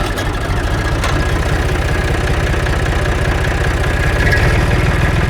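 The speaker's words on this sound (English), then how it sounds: "Push our kill switch in, make sure we're in neutral, and we'll fire her up, let her get to good operating temperature." Full-size tractor engine idling in neutral, a loud, steady low rumble with rhythmic diesel clatter that holds constant throughout.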